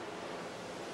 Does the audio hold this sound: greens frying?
no